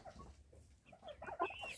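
Three-and-a-half-month-old chickens of a favourite breed cluck softly nearby, a few faint, scattered calls that grow busier toward the end against a quiet background.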